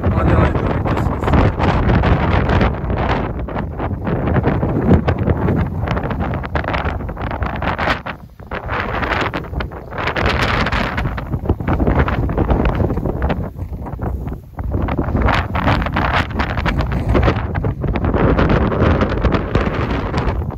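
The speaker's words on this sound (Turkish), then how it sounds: "Rüzgar var." Strong wind buffets the microphone on a hilltop overlooking Aliağa, a loud continuous rumbling roar with gusty swells and brief lulls, no voices.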